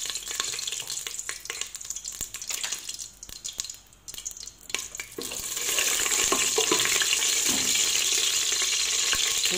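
Ghee for Algerian rechta hisses in a pan with a few clinks and a brief lull, then swells into a loud, steady sizzle.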